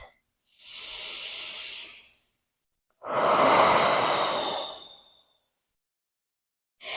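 Slow, deep breaths during a relaxing bedtime yoga stretch, close and clear: a long exhale, a pause, then a longer, louder breath, with silence between.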